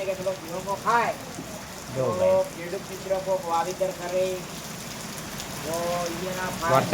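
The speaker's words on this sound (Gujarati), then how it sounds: "જો ગાઈસ વરસાદ પણ સારો ચાલુ છે" Steady monsoon rain patters throughout in a village in Banaskantha, Gujarat, with someone talking over it in bursts.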